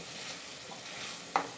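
Ingredients for a spicy Italian spaghetti sauce sauté in a pan, a soft steady sizzle with faint stirring and one sharp utensil clink near the end, brief and fairly quiet.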